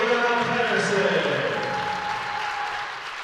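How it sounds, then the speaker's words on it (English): A high school girls basketball crowd in a gym claps and cheers for a player passing 1,000 career points. The applause is broad and sustained, with a faint tone underneath, and it slowly fades toward the end. "Have a big round of applause for Ayanna Patterson."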